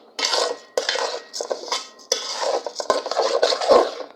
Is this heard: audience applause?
no